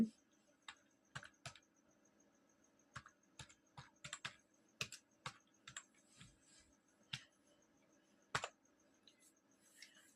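Computer keyboard being typed on to enter a company name in Tally ERP 9, irregular quiet clicks and key taps in short bursts over a low background hum.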